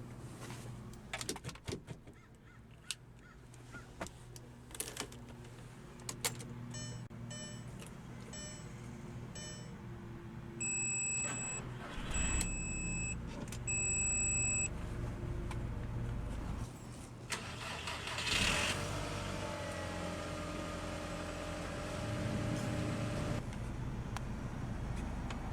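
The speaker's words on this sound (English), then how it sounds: "let's go ahead and start the engine" Clicks and a door thud, a series of chiming beeps, then a 2002 Audi TT 225 quattro Roadster engine cranks and catches, settling into a steady idle nearby.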